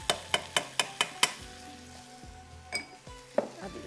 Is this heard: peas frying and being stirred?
yes